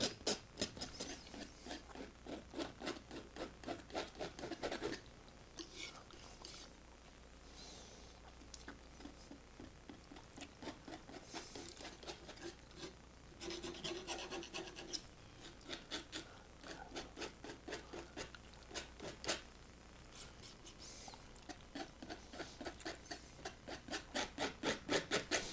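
A palette knife scrapes paint across a canvas to make rising grass in a snowy landscape painting, with rapid repeated rasping strokes in bursts and brief pauses, close and clear with no talking.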